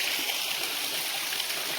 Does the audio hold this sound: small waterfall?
yes